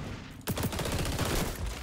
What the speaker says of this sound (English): there's like four people shooting me